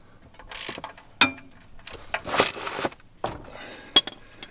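A ratchet wrench works on an RB25DET engine during an oil change, giving close metallic clicking bursts between clanks of tools and parts, with quiet gaps in between.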